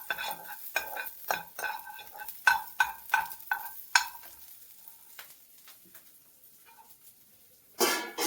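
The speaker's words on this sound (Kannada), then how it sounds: "ಈಗ ಇದ್ರಾಗ ಚೆನ್ನಾಗಿ ಫ್ರೈ ಮಾಡ್ಕೋಬೇಕು ಮೆಣಸಿನ್ಕಾಯಿ" Green chilies frying in oil for chicken soup, stirred with a utensil: a run of sharp rhythmic scrapes and taps over a soft sizzle, then a quieter stretch of frying before another burst of stirring.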